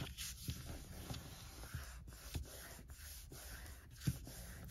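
Heavy paper is folded for a junk journal, with soft rubbing, creasing and sliding strokes repeating close up at a quiet level.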